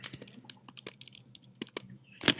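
Typing on a computer keyboard: scattered, irregular key clicks close by, quick taps with short gaps and one louder clatter at the end, no voices.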